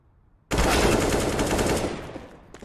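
A loud burst of AK rifle fire in Counter-Strike: Global Offensive erupts suddenly after a quiet moment and rattles on rapidly for about two seconds before tapering off.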